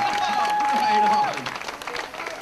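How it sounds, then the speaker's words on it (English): A crowd at an outdoor marijuana march rally claps and cheers in a broad wash of applause that fades after a second, with voices over it. "A lot of applause."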